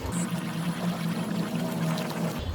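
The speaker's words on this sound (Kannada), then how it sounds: "ಕಡಲೆ ಹಿಟ್ಟು ಏನು ಕಲಸಿ ಇಟ್ಕೊಂಡಿದ್ದೀವಿ ಅದನ್ನು ಹಾಕೊಳ್ಳೋಣ" Gram flour batter poured into a pan of ghee on low flame for Mysore pak, a close continuous wet pouring and bubbling sound, moderately loud and without speech.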